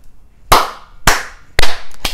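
Sharp separate claps, four distinct bursts, each loud and close with a short decaying tail, standing alone without any talk.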